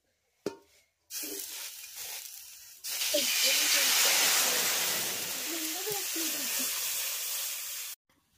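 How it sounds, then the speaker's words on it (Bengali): Water is poured into a hot kadai to make rice-flour roti dough, giving a short splash and then a loud, steady hiss that lasts several seconds before cutting off, with someone speaking over it. "প্রথমেই চালের রুটির জন্য কড়াইয়ের মধ্যে জল দিয়ে দিচ্ছি।"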